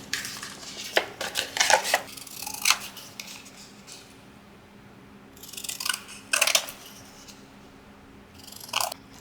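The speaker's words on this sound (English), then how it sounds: "Now all I need to do is trim them out." Scissors trimming glued playing cards for crafted button cards, several bursts of close crisp snipping and paper rustle separated by quiet pauses, no voices.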